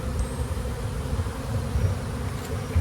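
Honey bees hum inside a strong, building hive colony, a thick, close, continuous low buzz with small swells in loudness and no voices.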